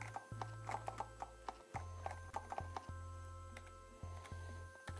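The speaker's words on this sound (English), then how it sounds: "Clip, clip, clop, clop." Horse hooves clip-clop in a video game, a steady run of quick, fairly close hoofbeats over a sustained low background tone, with no talking.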